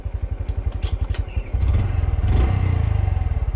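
A Honda CT125 motorcycle engine on a scramble track putters in rapid rhythmic thumps up close. About halfway through it grows louder and fuller as the revs rise, with some clattering on top.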